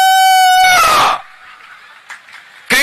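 A shrill voice mimics a rooster's crow in one loud, rising then falling call, followed by near silence and a short breathy sound.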